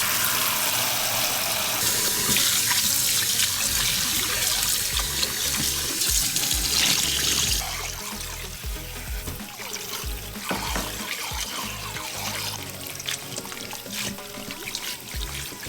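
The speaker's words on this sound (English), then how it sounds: "clean your cooked shredded pork skin in a mixing bowl over cold water for a couple of times" Cold tap water runs into a mixing bowl as cooked shredded pork skin is rinsed for Lao crispy coconut red curry fried rice. The splashing is continuous and close, heavier at first, then a softer, steady trickle.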